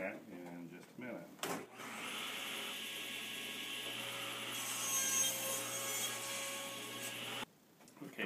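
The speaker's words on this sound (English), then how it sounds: "I'm going to cut my miter box in 2" A hand saw cuts through a wooden miter box in a tenor guitar workshop, making a continuous rasping scrape for several seconds after a brief bit of talk.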